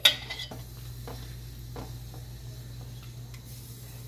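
Boiled tomatoes are stirred and mashed in a bowl, with a sharp clink of a utensil at the start, then soft intermittent scraping over a steady low hum.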